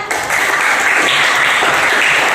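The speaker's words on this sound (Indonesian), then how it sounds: "Sekarang beri aplaus dan tepuk tangan" A classroom of students breaks into steady, dense applause that holds at an even level from start to finish.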